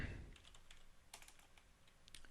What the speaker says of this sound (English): So I start typing.